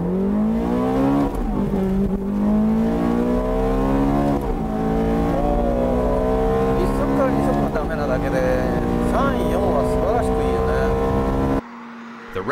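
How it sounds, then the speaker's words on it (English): Ferrari F430 sports car lapping a test track in sports mode, engine wailing and climbing through the gears with sharp shifts and revving, loud and continuous before cutting off near the end. "How will the newest sports car from Ferrari perform?"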